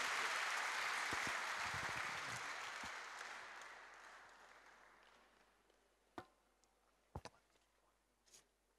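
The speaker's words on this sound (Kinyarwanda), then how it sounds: "tumwakire n'amashyi menshi cyane hamwe n'umufasha we" Church congregation applauding to welcome a bishop and his wife, a full round of clapping that fades over several seconds, followed by a few scattered sharp claps or knocks in a quiet room.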